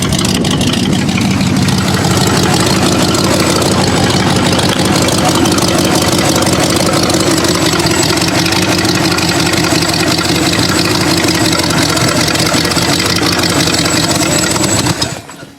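Ford Granada car engine runs steadily up close, a loud continuous idle-like drone with rough texture, cutting off abruptly at the end.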